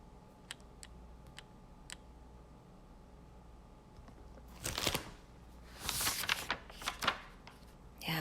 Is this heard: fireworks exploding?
no